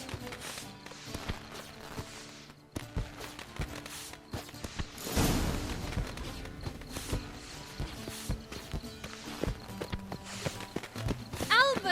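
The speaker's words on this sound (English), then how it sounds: "Saddled horses await in the stables." Horses clip-clop at a walk in the video game The Witcher 3: Wild Hunt, soft hoof beats in a steady rhythm beneath character dialogue and background music.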